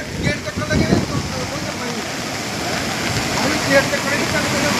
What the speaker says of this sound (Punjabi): ਬੜਾ ਪਾਣੀ ਓਏ ਬਿੱਡੂ